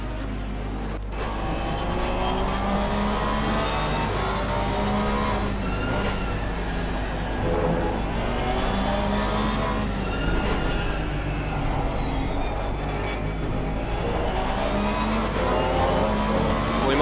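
A Porsche GT3 race car engine in Assetto Corsa Competizione drones steadily at Barcelona, rising and falling through gear changes with a constant loud onboard roar and no talking.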